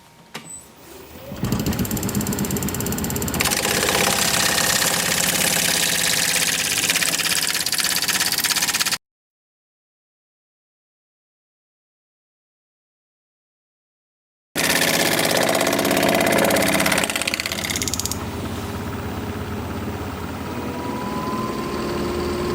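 A wood lathe spins a root ball bowl at about 1,000 RPM while a 5/8 inch bowl gouge cuts the outside. The loud, steady whir and roar of cutting continue, break into silence partway through, then resume.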